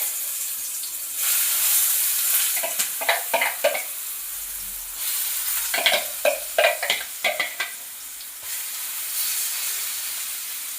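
Egg garlic curry mixture hits hot oil in a pan, sizzling and frying steadily while a spoon stirs in bursts of clattering scrapes, alone with no talk.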